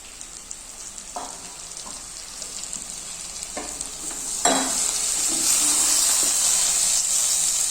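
Eid-style chicken fry cooked dry with masala sizzles steadily in a pan, as a spoon stirs and scrapes through it in a few distinct knocks before the hiss swells louder and stays constant; nobody speaks.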